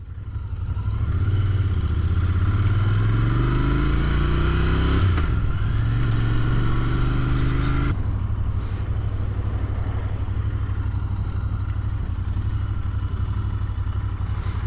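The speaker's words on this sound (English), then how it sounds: "I cannot believe how smooth this engine is." A Royal Enfield INT 650 motorcycle engine runs steadily and loudly, revving up briefly at the start before settling into a smooth, continuous drone.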